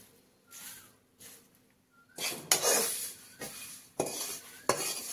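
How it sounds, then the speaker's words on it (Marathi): A metal kadai is scraped and stirred with dry poha chivda to clean it, giving about six separate rasping, clattering strokes that grow louder and denser toward the end, with quiet gaps between. "आता कोरडा चिवडा घालून सगळी पोहे ही सगळी कढई आपण साफ करून घ्यायची आहे"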